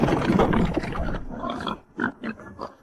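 Pigs grunt in a pigsty: a dense rumble of low grunting at first, then a few separate short grunts close by, with no talking.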